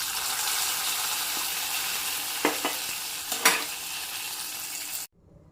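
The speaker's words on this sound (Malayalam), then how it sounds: "1/2 ടീസ്പൂൺ കടുകിട്ട് കൊടുത്തു. നമ്മുടെ വടക്കൂട്ടുകറിയിലേക്ക് ഒഴിച്ചു കൊടുക്കാം." Hot oil with half a teaspoon of popping mustard seeds poured into vada koottukari, a steady sizzle with a few sharp crackles and clinks before it cuts off abruptly.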